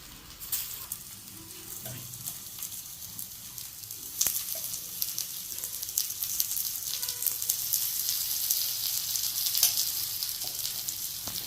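Bitter gourd slices fry in hot oil with a steady, crackling sizzle that grows gradually louder, with occasional sharper pops and spatters and no talking.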